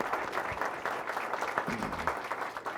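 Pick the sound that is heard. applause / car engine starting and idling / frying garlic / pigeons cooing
applause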